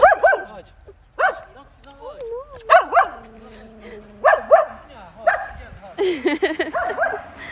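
A small dog barks, yips and whimpers in short excited bursts during a town walk, close by, with people talking and greeting it in between.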